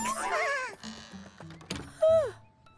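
Cartoon sheep bleating in a children's animated show; a wavering bleat opens, then a sliding bleat near the end, over light tonal music and effects.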